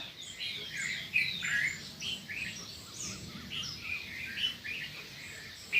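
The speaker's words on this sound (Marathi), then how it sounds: "चिन्ना चिमणी पक्षी" Small sparrows chirp outdoors during a light drizzle, their repeated high tweets scattered and fairly faint over a soft, steady background.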